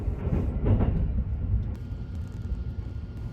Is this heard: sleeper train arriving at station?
yes